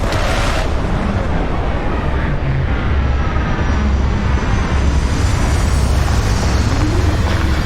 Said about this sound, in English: Landing site locked. Take us in.